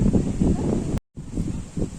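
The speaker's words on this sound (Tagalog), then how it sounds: "Grabe yung lakas ng hangin guys dito sa Nubal." Steady roaring wind buffets the microphone in a parking lot at Nuvali, broken by a brief dropout before the gusty rumble resumes.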